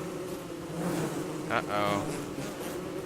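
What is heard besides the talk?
bees buzzing in Don't Starve, video game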